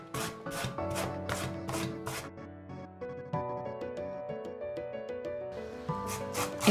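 Green village zucchini rubbed against a grater for Turkish gozleme, with a quick run of rhythmic rasping strokes, then a steadier scraping stretch, over a tonal background.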